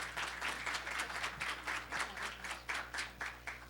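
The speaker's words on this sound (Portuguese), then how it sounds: "Mais uma salva de palmas para os professores." Audience at an academic psychology conference applauding the professors, a steady patter of many hands clapping at moderate distance, fairly soft and even throughout with no voices over it.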